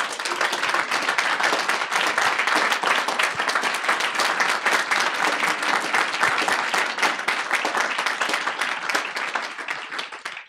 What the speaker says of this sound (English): Just ask her to stand up and receive a round of applause for being this year's winner.